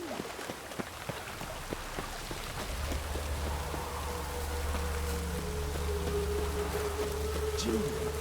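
Rain falls in a video game with a dense steady patter of drops; a low droning hum joins partway through and sustains alongside the rain to the end.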